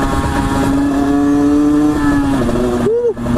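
A Famel XF-17 motorcycle engine winds up to high revs, a loud, sustained nasal drone close at hand that climbs slightly in pitch, then drops and briefly rises again.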